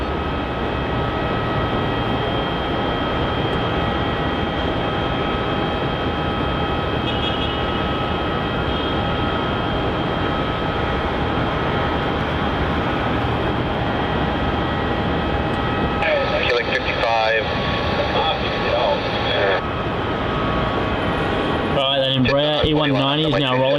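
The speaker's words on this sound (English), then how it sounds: "E190 is now rolling down runway 27 for its departure off to Townsville." An Embraer E190 jet rolls down runway 27 at Melbourne Airport on its takeoff run toward Townsville, a loud, steady engine roar and rumble that fills the whole stretch while voices talk over it.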